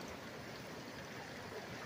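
Steady rushing of the West Mancos River, a continuous broadband wash like a stream running over rocks, even and uninterrupted.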